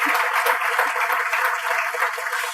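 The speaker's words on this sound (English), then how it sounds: "give a big round of applause for Karishma out here." An audience applauds steadily, a dense wash of many hands clapping at moderate volume throughout, heard through a hall's sound system with a faint tonal hum.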